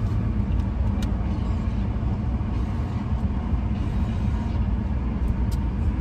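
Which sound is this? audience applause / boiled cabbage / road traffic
road traffic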